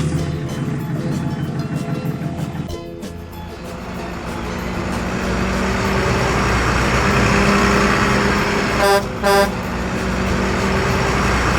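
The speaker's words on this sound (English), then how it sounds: "truck" A truck engine rumbles steadily close by, swelling as it drives, then two short horn toots sound near the end, with a voice briefly heard.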